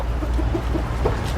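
Chickens clucking in a garden coop, several short soft clucks repeating close by over a low steady background.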